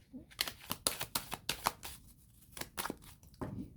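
Tarot cards shuffled by hand for a reading, a close series of rapid riffling bursts in two quick rounds, with a brief pause between them and no talk.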